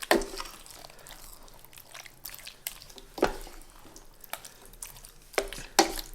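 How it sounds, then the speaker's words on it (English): Tomato pulp stirred into a keto beefy enchilada casserole: quiet, wet scraping strokes come in irregular bursts against a near-silent background. "So we're going to mix this all in here."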